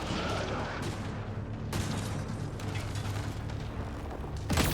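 Video game gunfire in a Mass Effect: Andromeda firefight, a dense and continuous rattle of shots with mechanical clatter under it, steady and moderately loud, with a sharper burst near the end.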